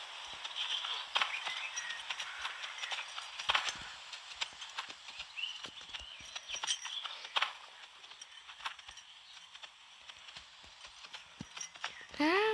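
Hooves of a ridden horse clip-clop in a steady rhythm over ground outdoors during a riding session, fairly close, with a rider's voice occasionally heard over the footfalls.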